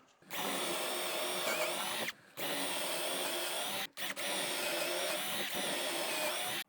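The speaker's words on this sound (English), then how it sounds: "put a pocket hole on each side of each one" A power drill boring pocket holes into small 1x2 wooden boards set for 3/4 inch, running loud and close in three sustained bursts separated by brief pauses.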